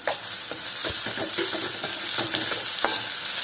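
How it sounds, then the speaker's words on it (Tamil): Green chillies, ginger and garlic sauté in a pan with a steady sizzle, while a spoon stirs and scrapes the metal in short, irregular strokes close by, with no voices. "இதை நல்லா வணக்கிறோம்."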